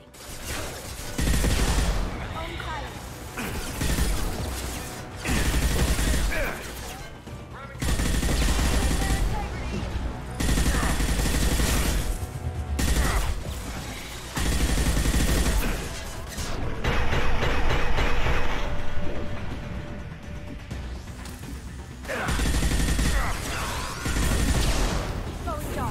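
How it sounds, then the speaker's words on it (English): Rapid bursts of gunfire from a Mass Effect 2 firefight, loud and near, with repeated volleys and impacts separated by brief lulls, and combat voices shouting between the shots. "Hostile fire!"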